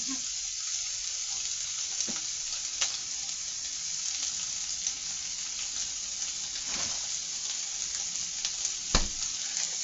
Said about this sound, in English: Now this sausage is cooking, but I would like a little bit more cooking in there.